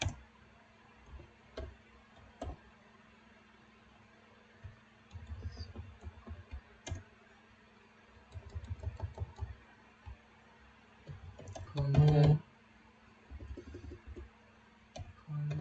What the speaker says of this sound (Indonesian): Kemudian di sini kita ketik main